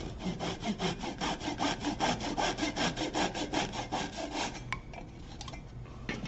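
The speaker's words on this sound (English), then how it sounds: "All right, so a little saw action." A hand saw cuts wood for a bird feeder with a fast, regular run of rasping back-and-forth strokes. Close and clear, it ends after about four and a half seconds, followed by a few light clicks and handling noises.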